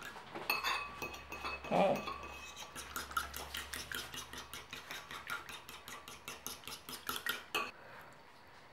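Batter of flour, milk and egg for steamed pandan rice cakes being mixed in a bowl with a utensil, giving rapid, steady clinking and scraping strokes close by, with a brief voice near the end.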